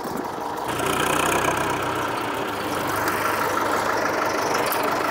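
A Massey Ferguson tractor engine runs steadily at a fairly loud, constant drone while reversing during timber milling work, with the pitch rising slightly after the first second and no talking.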